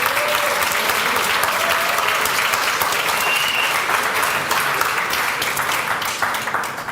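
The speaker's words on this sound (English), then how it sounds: "Round of applause" Audience round of applause at a climate hackathon awards ceremony, a loud, sustained wash of clapping from a large crowd, steady for the whole stretch.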